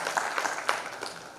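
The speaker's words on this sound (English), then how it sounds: "A louder round of applause." Brief, fairly faint applause from a conference audience for panel speakers on the dais, a short patter of scattered claps with a few sharper hits over roughly a second and a half.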